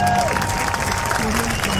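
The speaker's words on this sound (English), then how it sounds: "Here's your applause break." Steady applause from a studio audience fills the whole moment, a dense patter of clapping with a voice faintly underneath.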